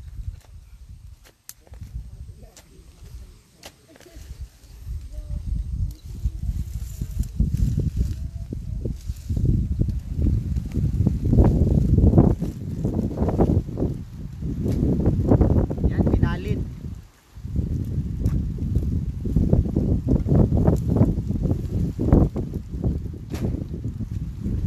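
Strong wind buffets the microphone on a farm field where cassava is being planted, a loud, gusty low rumble that rises and falls throughout with brief lulls.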